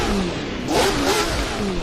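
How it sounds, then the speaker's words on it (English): A 1970s Formula 1 car engine in a sim racing game, its exhaust revving up and down in a couple of short rising sweeps, close and moderately loud with a bassy burble. "Nice exhaust sound, like fuel burner sound."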